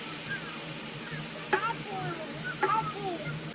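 Butter sizzling in a frying pan inside a van kitchen, a steady close hiss with a couple of sharp crackling pops partway through.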